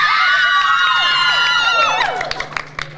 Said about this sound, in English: Now, we heard you guys screaming down there. Why don't we hear that on mic right now,